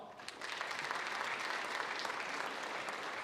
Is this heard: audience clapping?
yes